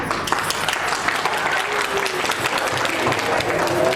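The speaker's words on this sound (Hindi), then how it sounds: "तालियां बजा दो भैया दोबारा" A wedding crowd welcoming the groom's party applauds steadily throughout, a dense continuous wash of many hands clapping, loud and close, with no voices standing out.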